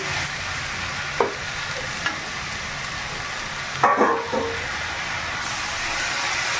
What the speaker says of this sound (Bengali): এটা ভালো করে কষে নেবে